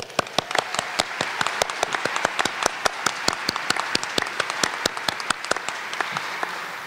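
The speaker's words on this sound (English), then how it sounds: "Let's give them a round of applause." Audience applause rings out at a university awards ceremony: a moderate crowd clapping in a brisk, even patter of distinct claps that continues for several seconds with no talk.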